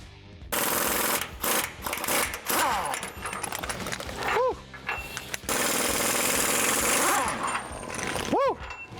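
An impact gun rattles off steering gear bolts on a Ford F-450 4WD, with loud bursts of hammering that start and stop several times, close up, along with some metallic clatter.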